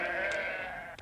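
A sheep from a flock of 25 in a 1970s period drama bleats once, a loud wavering cry close by, with faint rustling behind it.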